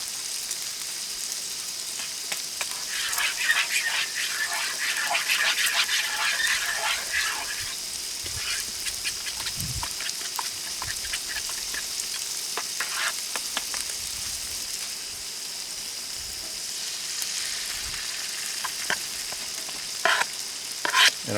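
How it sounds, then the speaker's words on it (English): Bacon frying in a pan at a forest campsite, a steady crackling sizzle with scattered pops that runs the whole time at moderate loudness. "Alright, starting to get that sizzle, which is good."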